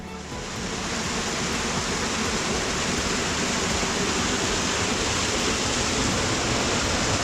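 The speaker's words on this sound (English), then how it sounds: "The first waterfall of the Ayusai tract." The first waterfall of the Ayusai tract pours steadily, a dense, broad roar of falling water heard up close, constant and loud throughout with no voices over it.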